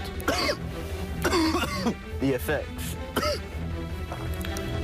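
A man coughs and clears his throat in several harsh bursts after smoking strong marijuana. The coughs are close and mixed in with his own talking.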